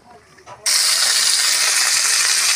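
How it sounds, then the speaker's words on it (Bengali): Fresh neem leaves, washed in water, dropped into hot oil, setting off a sudden loud, steady sizzle that carries on unbroken after a quieter moment of handling. "নিম পাতাটা তেলের মধ্যে ভেজে নিচ্ছি।"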